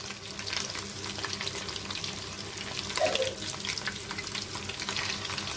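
Chicken wings frying in hot oil, a steady close crackle and sizzle running continuously, with a brief clink of a utensil partway through.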